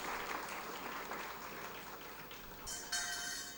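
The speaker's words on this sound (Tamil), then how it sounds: "அந்த குழந்தைகளுக்காக நீங்கள் தயவு செஞ்சு ஒரு ஜோராக ஒரு கைத்தட்டு தட்டுங்க" An audience applauds children after their stage performance, a steady wash of clapping from a crowd that holds throughout at moderate distance.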